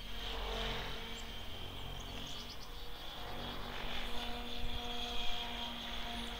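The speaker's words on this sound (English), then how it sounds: "That was a sharp handling heli, a little heavy for a 600." A Synergy 696 RC helicopter, a 600-size electric model, flies with a steady rotor and motor whine at moderate distance, swelling slightly as it passes, alone without speech.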